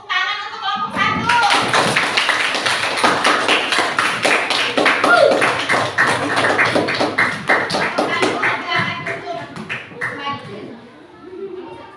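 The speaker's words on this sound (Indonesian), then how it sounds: "tepuk tangan untuk kelompok 1" A group of children in a classroom clap together in a fast, rhythmic burst lasting several seconds, with brief voices before and after.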